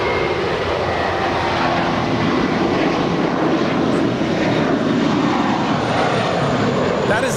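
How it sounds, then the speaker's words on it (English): A six-year-old American Airlines Airbus A321 departs Los Angeles International for Dallas Fort Worth, its engines rumbling in a dense, sustained roar at a moderate distance, with a voice talking over the noise. "That is American Airlines Flight 2886 departing to Dallas Fort Worth. It's a 6-year-old Airbus A321."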